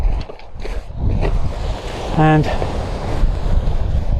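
Wind buffets the microphone over steady surf on a beach along the Portland coast path, a loud broadband rush with a brief tonal whistle partway through and a voice speaking a word.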